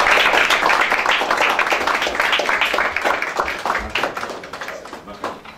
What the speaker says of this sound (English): Please give a warm round of applause for David McQueen.